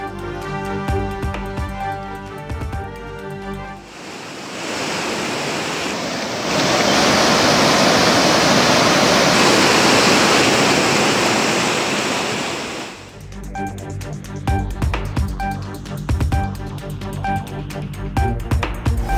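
Water from the Manjalar dam, opened at 100 cubic feet per second for irrigation, gushes in a steady loud broadband roar for several seconds, with other sounds before and after it.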